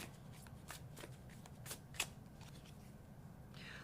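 Tarot cards shuffled and drawn, a quiet string of soft riffling flicks and papery snaps, one crisper snap standing out midway, over a low steady background hum with no voices.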